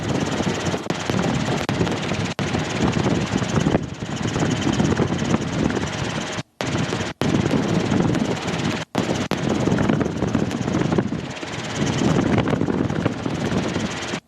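A loud, continuous engine and rotor roar of a Robinson R22 helicopter in flight, broken by a few brief dropouts.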